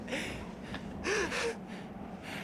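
Heavy breathing of fighters in a Kamen Rider Kuuga fight scene: close gasps and snorting breaths over a low ambient hum, with a louder exhale near the middle.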